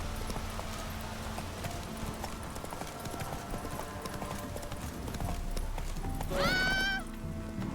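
Horse hooves clip-clop steadily through the open world of The Witcher video game, with a short, loud neigh near the end over game ambience and a faint musical bed.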